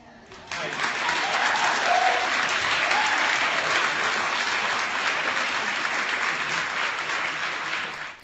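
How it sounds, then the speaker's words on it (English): A large crowd at a public event breaks into sustained, dense applause that starts abruptly and holds steady for several seconds before easing off, with some background voices mixed in. "And the stupid crowd claps"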